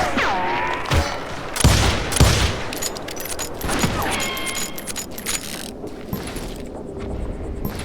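Gunfire rings out in a chaotic exchange, with sharp loud bangs and metallic clacks against rattling, mechanical noise and whooshing effects, busy and close.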